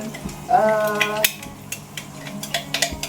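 Spice paste stirred in hot oil in a home kitchen for sambal lado tanak: a brief sizzle as the paste hits, then scraping stirs and utensil clinks against the pan, close and moderately loud.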